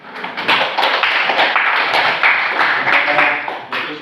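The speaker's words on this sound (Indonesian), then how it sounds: "Berikan aplaus." An audience claps together in a dense, even patter of overlapping handclaps, close and fairly loud, holding steady for about four seconds before tapering slightly at the end.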